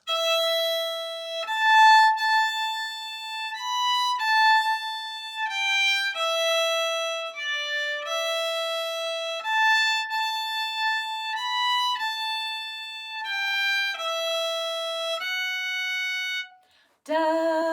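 A solo fiddle plays two phrases of the Irish tune O'Keefe's Slide, a clear, close melody of sustained and bouncing notes at a beginner's pace, with a brief knock at the end.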